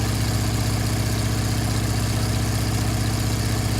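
A Douglas TBD Devastator torpedo bomber's engine drones in a steady, loud, low-pitched hum just after takeoff in an FSX flight simulator, unchanging and alone.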